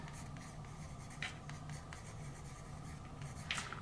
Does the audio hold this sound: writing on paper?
yes